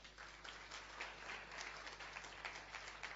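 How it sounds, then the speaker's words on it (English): A church congregation claps during a sermon, steady massed applause heard faint and distant throughout. "Let's give a hand of a clap to Mama."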